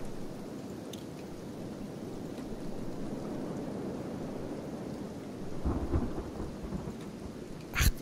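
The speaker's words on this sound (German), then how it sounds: "Verdammter saurer Regen." Steady acid rain hisses down in the video game Kenshi, with low rumbling thunder swelling near the middle and a sharper crack at the end, no voices present.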